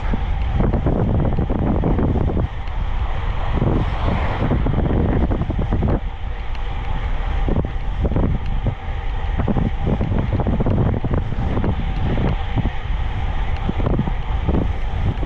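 Steady, heavy headwind buffets the microphone of a cyclist riding in a strong autumn halny wind, a constant roaring rush with gusty fluctuations and no voices.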